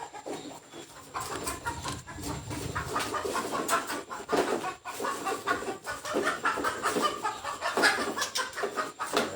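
Hens in a village in Isan, Thailand, cluck and chatter in a steady stream of short calls, moderately close, with no talk over them.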